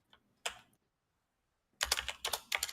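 Loud, fast computer keyboard typing, clattering close to the mic: one short burst, a pause of near silence, then a dense run of rapid key strikes.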